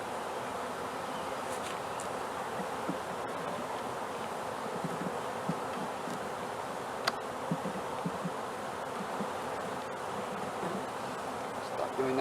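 Honeybees fan around comb taken from a swarm catch, a continuous, even buzzing hum close by with occasional louder bees passing, and no talking.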